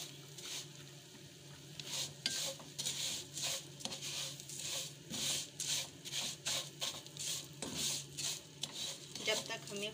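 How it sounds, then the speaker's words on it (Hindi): Vermicelli (sewaiyan) stirred and roasted in hot ghee for an Eid sweet, with steady close scraping and clinking strokes of a spoon against the pan over a low sizzle, repeating in an uneven rhythm. "इसमें हम अपनी सेवइयाँ डालेंगे और हम अपनी सेवइयों को भूनेंगे"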